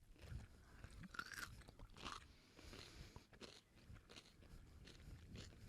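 Crunchy bites and wet chewing of spicy cucumber seasoned with salt and spices, close-up and steady, with repeated crisp crunches spread through the stretch and no talking.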